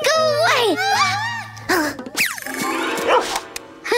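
A small dog barks and yips several times in a backyard while children talk over it, the barks sharp and close amid chatter.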